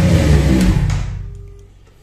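Kawasaki Versys 1000 motorcycle engine revved hard while idling during an oil change, a loud throaty roar that drops away and fades into quiet within about two seconds.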